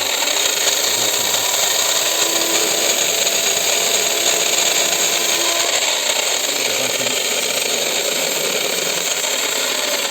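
A Moulinex meat grinder with a burnt-out motor runs steadily and close, a continuous harsh grinding whir with a rough, buzzing edge that holds without a break, and no voices.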